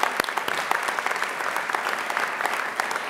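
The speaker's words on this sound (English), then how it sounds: "How about a round of applause for our College Board members?" An audience at a college academic and leadership awards convocation claps steadily in a dense, continuous round of applause throughout.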